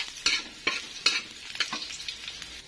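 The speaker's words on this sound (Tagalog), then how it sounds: "Kasi kailangan muna natin magsangag ng rice." Rice being dry-fried in a pan for fried rice, toasted toward golden brown, with a few sharp scraping stirs of a spatula over a steady sizzle, close and alone.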